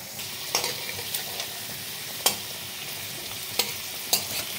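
Tangra fish frying in mustard oil makes a quiet steady sizzle with scattered sharp pops and spits, heard close and alone.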